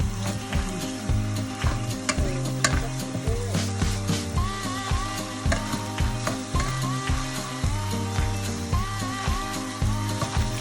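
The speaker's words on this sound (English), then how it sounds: "Make sure to give it a good stir and cook it a bit more." Bicol Express stirred and frying in a pot, a steady close sizzle broken by regular scraping stir strokes roughly every half second, with no voices.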